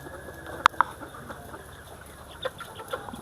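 Layer hens kept in stacked multi-tier cages cluck while eating their feed. A couple of sharp, close clucks come early, followed by softer scattered clucks over a low barn background.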